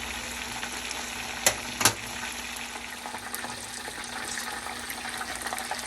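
Southern fried chicken cooking in hot oil, a steady bubbling sizzle heard close by, broken by two sharp clatters early on, with no voices.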